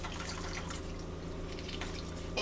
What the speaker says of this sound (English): So I have a couple oranges here and I'm going to squeeze the juice